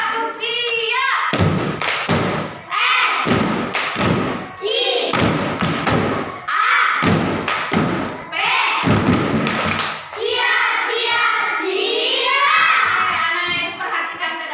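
Children in a classroom perform a rhythmic patterned clap together, with sharp group claps and thuds in bursts and short pauses, mixed with their chanting voices.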